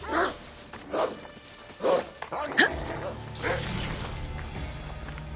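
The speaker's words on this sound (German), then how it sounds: "Was wollen die ganzen Hunde hier, ey?" Dogs in the video game Assassin's Creed Odyssey bark in several sharp, spaced yelps, with someone talking over and between them.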